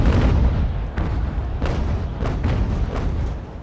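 Sailing-ship cannons fire in the naval game Ultimate Admiral: Age of Sail, a rolling series of heavy booms and blasts overlapping in a dense barrage for several seconds, no talk.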